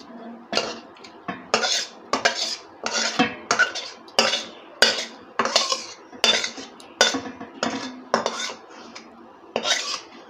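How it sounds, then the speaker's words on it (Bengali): A metal spoon clatters and scrapes against a cooking pot, over and over at a steady pace, as chicken is spooned onto a layer of rice for homemade chicken dum biryani. The sound is close and fairly loud. "তারপর চিকেনটা ঢেলে দেওয়া হচ্ছে"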